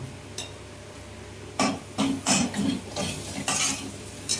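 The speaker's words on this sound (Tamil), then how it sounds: "அதிலே கொஞ்சமாக தனியாத்தூள் நல்லா மிக்ஸ் பண்ணிக்கலாம்" Coriander powder is stirred into a potato masala, a spoon scraping and knocking against the pan in a quick run of close, rhythmic strokes over a faint sizzle, after a quiet start.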